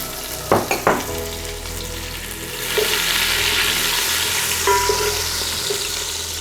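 Chopped onions hit hot oil for chicken fried rice, starting with a few knocks of a utensil before a steady, moderately loud sizzle rises and holds, with occasional stirring.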